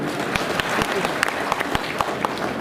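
Scattered hand clapping from an audience at a political campaign office gathering in Maharashtra, a brief burst of irregular claps with crowd murmur underneath.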